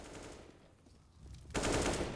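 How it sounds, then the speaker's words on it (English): AK rifle fire in a professional CS:GO match on the Nuke map: quiet game ambience, then a loud, sustained burst of rapid shots that continues to the end. "Taps through the AK, Sonic."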